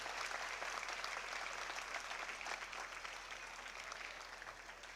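A church congregation claps loudly and steadily at a New Year night mass, dense applause filling the hall and slowly tapering toward the end.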